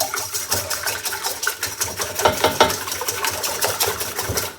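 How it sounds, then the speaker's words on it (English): Eggs beaten with a whisk in a big bowl at a campfire cooking setup, rapid rhythmic clinking and tapping against the bowl, close and steady with no talk. "Get yourself a whisk."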